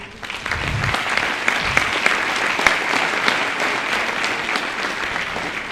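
Steady, dense applause from a school band concert audience, sustained clapping from a full room with no talking over it.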